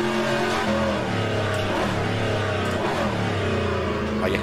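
A 7-litre V8 muscle car with a four-speed gearbox revs hard in the rFactor 2 Aussie Legends racing mod, its loud steady engine drone rising and falling in pitch as it accelerates through the gears.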